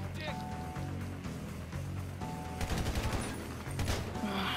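Rapid gunfire in GTA V bursts out in clustered volleys, louder toward the end, over a steady engine-like rumble, with faint voices in the mix.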